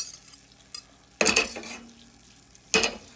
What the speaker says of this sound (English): You can see that starting to sizzle in there.